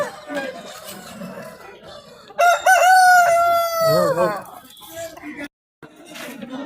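A rare-breed Patta kondai rooster at a Tiruppur poultry market lets out one loud, drawn-out crow lasting about two seconds, rising and then falling. Market noise and talking surround it.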